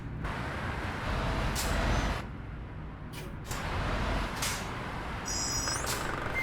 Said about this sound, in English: And then these brakes sounds very healthy.